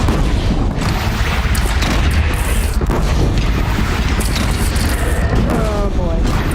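A bridge is shot down and collapses in Horizon Zero Dawn: a continuous loud roar of crashing, rumbling debris with booming impacts throughout, dense and close, with voices faintly mixed in.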